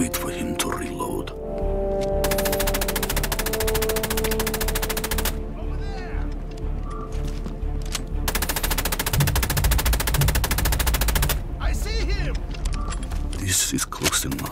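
In the Assassin's Creed Chronicles Russia video game, an enemy fires long bursts of rapid automatic gunfire that run loud for several seconds, pause and resume, with in-game voices speaking during the breaks.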